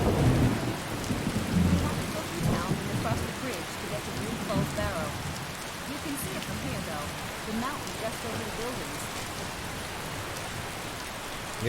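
Rain and rolling thunder in the video game Skyrim, a dense, steady patter of rainfall with low rumbles running throughout, no voices.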